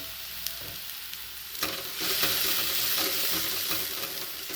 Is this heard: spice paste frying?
yes